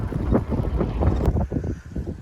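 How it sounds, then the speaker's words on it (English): Strong wind at an outdoor campsite during a spring drift event, blustery gusts buffeting the microphone in a low rumbling roar with no voices. "it is windy"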